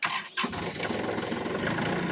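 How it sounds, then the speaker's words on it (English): A tractor engine cranks briefly, then catches and settles into a steady, loud idle rumble close by. "let's hop on the tractor here"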